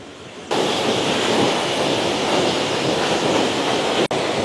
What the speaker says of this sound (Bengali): এই দেখো রানী ডুডুমা ওয়াটারফলস।